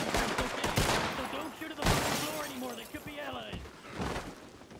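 Gunfire in a large shootout in the video game Red Dead Online, several sharp shots and bursts cracking in irregular clusters, some near and loud, others farther off, with voices talking over the action.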